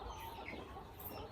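Young farm chickens raised around a coop cluck softly and continuously at a distance, with no voices over them.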